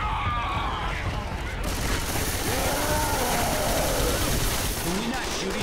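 Sustained automatic gunfire and shotgun blasts from Left 4 Dead 2 multiplayer on a Helms Deep custom map, a loud unbroken barrage of overlapping shots with players shouting over the chaos.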